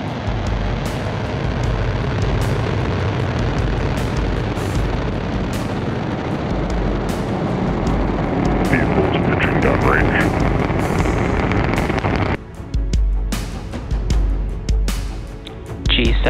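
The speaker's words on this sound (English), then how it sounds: "Three, two, one, ignition, and liftoff. Go Falcon," A SpaceX Falcon rocket ignites and lifts off carrying the GSAT-20 satellite, a loud continuous roar and rumble with crackling that fills the whole stretch, dipping briefly near the end before surging again, with a voice faintly under it.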